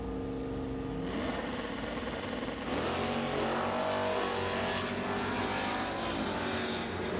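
Drag race cars, a Malibu Wagon and a Dodge, roar down the strip at Mission Raceway Park, loud and sustained, engine pitch climbing as they accelerate hard, with a second surge of revving joining partway through.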